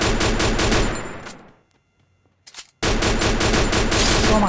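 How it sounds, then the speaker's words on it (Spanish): Rapid gunfire bursts in the mobile battle royale game Free Fire MAX, loud and dense, cutting out into near silence for about a second before a short shot and then sustained firing resumes. "¿Quién me está disparando?"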